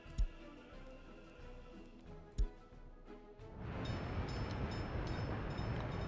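A train in the video game Workers and Resources first gives a few sharp clicks, then swells into a steady rumbling roll as it gets moving, with no voices.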